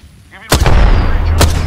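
Gunfire in the Apex Legends battle royale game: a sharp loud burst of shots lands suddenly after a quiet start, followed by sustained rumbling reverberation and a second crack near the end.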